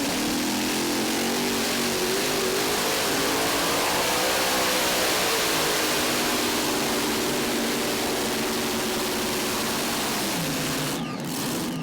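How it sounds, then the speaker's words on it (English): Loud, roaring engine of a Criswell Benedict pulling tractor at a truck and tractor pull in Tomah, Wisconsin, sustained at high power with a slowly shifting pitch for about ten seconds before cutting off near the end. "Strong competitor here, one of 2 tractors for the Criswell Benedict team"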